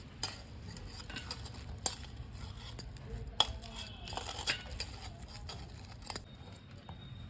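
A soya chunk and mashed potato mixture being kneaded and mixed by hand in a bowl, with steady soft squishing and scattered sharp clicks, close and without talk.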